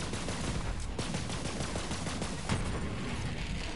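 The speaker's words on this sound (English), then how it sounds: "I've got a radioactive submachine gun" Radioactive submachine gun firing in a video game, a steady stream of dense, rapid shots filling the whole stretch with a few sharper cracks standing out, no talk.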